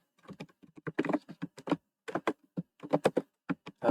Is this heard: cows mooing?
no